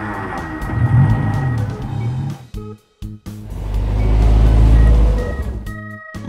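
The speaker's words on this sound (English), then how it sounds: "Convertible car." A convertible car's engine rumbles steadily up close, dips into a short gap, then swells into a deep, louder drone that builds and holds.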